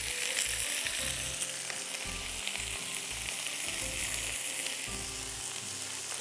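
Onion and chopped garlic fry in a pan with a continuous bright sizzle, close up, while a utensil occasionally scrapes and stirs underneath.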